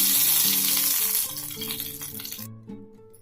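Mustard seeds, chana dal and curry leaves crackle and sizzle in hot oil for sambar, a loud, busy spitting that runs over background music and cuts off sharply near the end.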